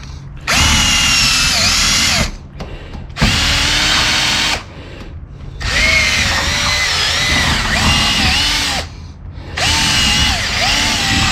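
A power drill works on the rear sway bar install of a 1992 GMC Sonoma GT: loud, close bursts of whining, revving motor with pitch shifts under load, separated by short pauses, repeated several times.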